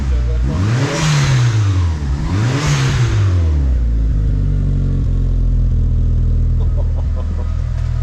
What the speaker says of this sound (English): if you stop the engine, then it still keeps running for a while to cool down the turbo